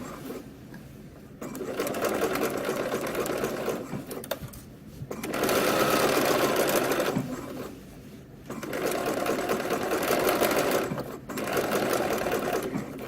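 A sewing machine sews in a garment sleeve, three long runs of close, fast, even needle chatter separated by short pauses of quieter handling.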